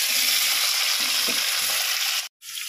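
Paneer fries in a pan with a loud, close, steady sizzling hiss and a few soft lower bumps, cutting out abruptly near the end before resuming.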